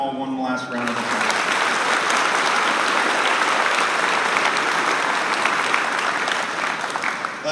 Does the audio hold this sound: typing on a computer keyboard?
no